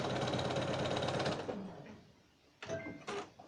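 A sewing machine stitches a quarter-inch seam on a quilt square in a fast, steady whir for about a second and a half, then stops, followed by two brief bursts of running.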